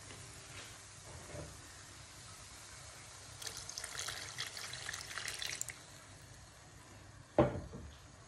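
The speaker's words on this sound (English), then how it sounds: "so we can add a bit more water to it" Water is poured into a pot of thick dal curry, a faint trickling splash lasting a couple of seconds, followed by a sharp clunk.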